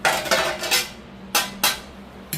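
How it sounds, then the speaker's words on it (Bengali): Metal lid set down over a pot of chicken cooking on the stove, a few close clanks of metal on metal spaced apart, with a final clink at the end. "দেখো চিকেনটা একটু হয়ে যাক একটু চাপা দিয়ে দিই"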